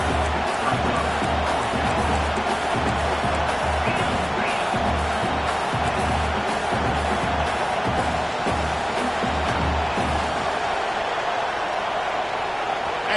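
A stadium crowd roars in the Madden football video game, a dense, steady wall of cheering and noise that runs unbroken, with no quiet stretches, over a play ending a yard short of the first down.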